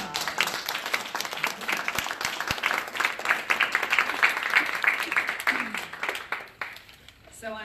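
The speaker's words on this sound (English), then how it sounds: "I'd like you to give them a round of applause" An audience at a launch event applauds warmly for several seconds, steady clapping from many hands that tapers off near the end, with some talk underneath.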